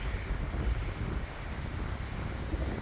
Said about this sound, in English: this wind is whipping